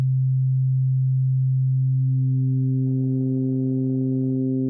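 A steady synthesized tone that gradually gains stacked harmonics, growing richer and buzzier toward the end, with no voices.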